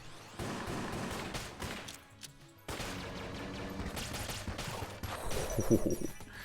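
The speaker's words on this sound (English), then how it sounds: "One shot from the composite gun." Gunfire from the composite gun in the Enter the Gungeon video game, a dense burst of rapid shots under game music and effects, with a brief lull before the shooting and clatter pick up again.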